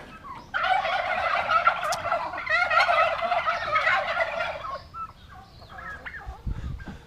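Several turkeys on a New Zealand farm gobble in loud, overlapping bursts nearby, fading to scattered calls and a low thump toward the end.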